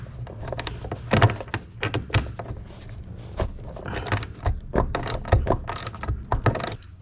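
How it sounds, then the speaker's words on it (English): Bottom bolts are removed from a Jeep JLU interior with a ratchet, giving bursts of rapid clicking pawl sounds and metallic clanks close by, irregular and moderately loud with no talking. "we're going to go ahead and get these bottom bolts out as well"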